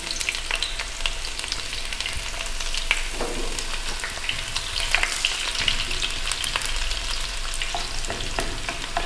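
Onions frying in hot oil for a dal tadka for masoor dal: a steady, close sizzle and crackle with occasional stirring, continuous throughout with no talk.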